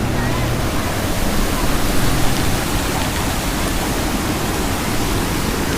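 Heavy flow of clean water pouring through the gates of a check dam makes a dense, even rushing roar. It holds steady and close for several seconds, with no talking on top.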